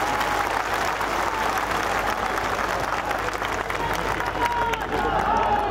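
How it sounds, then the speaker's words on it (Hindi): A crowd applauding to welcome the home minister at a rally in Gwalior, loud continuous clapping with some cheering mixed in and a steady background murmur. "ऐसे गृह मंत्री का ऋषि गालब की नगरी के तपस्वी भूमि पर तालियों के साथ स्वागत किया जाए"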